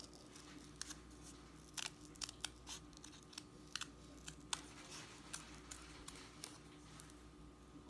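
Scissors snip through folded craft paper, cutting out a circle for a paper mushroom: a series of short, crisp clicks and snips at close range, irregularly spaced over faint background hum.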